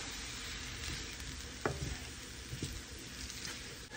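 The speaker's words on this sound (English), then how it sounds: "I'll stir them around so they coat with oil" Garlic is stirred around in hot oil in a pan for a chicken ginger soup, giving a quiet, steady sizzle with a few soft scraping knocks from the stirring.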